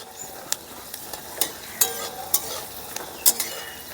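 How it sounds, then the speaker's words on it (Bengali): Peanuts fry in hot oil in a pan while being stirred, a close, steady sizzle broken by sharp scraping stir strokes and pops at irregular intervals, with no talking. "বন্ধুরা, বাদামটাকে লাল করে ভেজে নেব"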